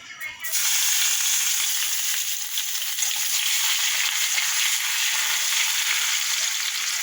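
Garlic frying in oil with cumin tempering, a loud steady sizzle that starts abruptly and holds evenly close by.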